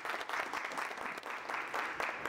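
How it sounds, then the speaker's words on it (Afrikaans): An audience bursts into steady applause, many hands clapping in a dense, continuous patter that holds at an even, fairly close level throughout. "Geef vir 'n hande klap asseblief."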